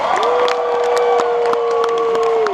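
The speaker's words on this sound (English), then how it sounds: "Let's give them a big round of applause as well." Audience applause and cheering at a Disney fan evening show, a dense crowd roar with scattered claps, loud and steady throughout, with a sustained tone running underneath.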